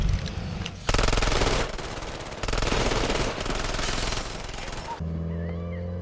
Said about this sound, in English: I thought they were shooting at Walt at first